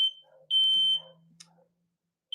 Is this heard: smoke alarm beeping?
yes